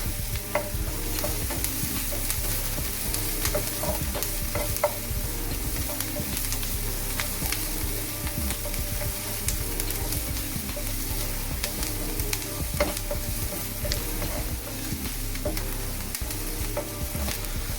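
Ground beef and pork, mixed about four to one, fry in hot olive oil with a constant close sizzle and crackle, broken by scraping stirs of a utensil in the pan.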